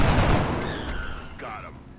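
A heavy gunshot in the XCOM strategy game opens the moment, and its loud echoing boom slowly fades over two seconds while faint tonal game effects sound underneath.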